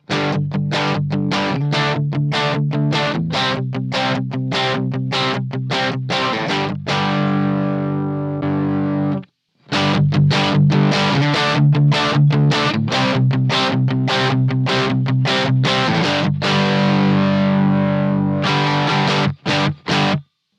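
Electric guitar played through a Bluguitar Amp1 Mercury Edition with fully overdriven boost, thick distorted chords ringing loud and sustained, with a brief silence midway before the riff resumes.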